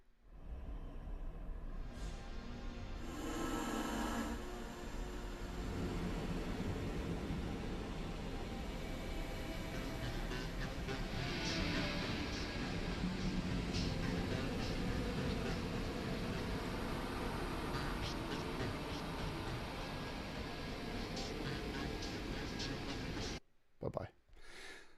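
Internet radio stations run through a heavy stack of effects in the AUM audio app on iOS make a dense, continuous wash of processed sound, loud and steady for about twenty-three seconds before it cuts out abruptly.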